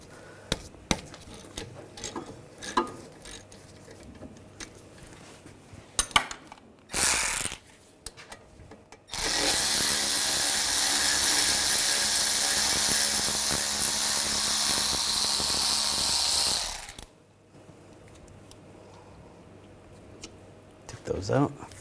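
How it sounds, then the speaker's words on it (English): A 7mm hex socket works the brake caliper bolts loose on a 2009-2017 Volkswagen Tiguan, heard as close ratcheting clicks followed by a long, loud, steady whir of a powered driver lasting several seconds. "Using a 7mm hex socket, I'm going to take the caliper bolts out."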